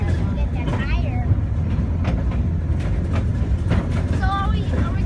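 A rail speeder riding the Stewartstown Railroad tracks gives a steady low rumble and clatter, with faint squeals and scattered clicks throughout.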